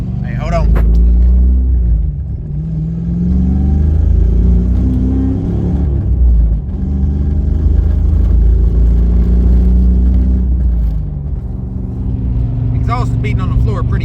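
A Mustang GT rumbles along the road with a deep, steady low engine drone and an exhaust that beats against the floor, while someone talks over it throughout.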